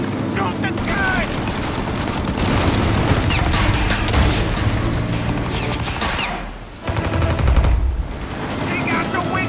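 Dense gunfire rattles in a 1933-set shootout in the video game Mafia Definitive Edition. Sustained bursts and rapid shots fill the scene, with a brief lull before the firing resumes, and loud character voices shout over it.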